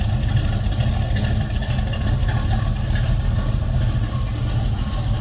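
A 1967 Chevrolet Camaro V8 idles steadily, its low, rumbling engine note close and continuous throughout with no talking.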